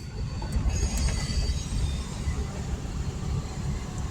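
A train rolls past at close range, a steady broadband rumble of wheels on rail with faint high squeals, holding level throughout without voices.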